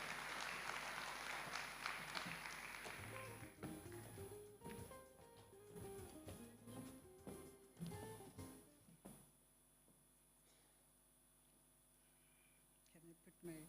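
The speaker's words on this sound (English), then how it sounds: "Let's give her a round of applause," Audience applause at a WorldSkills South Africa presentation evening, a broad burst of clapping for the next presenter that fades after a few seconds, with a voice and some talk over it.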